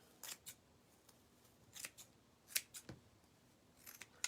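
Scissors cut through craft material for a DIY welcome wreath, making sharp, close snips in irregular clusters separated by quiet pauses.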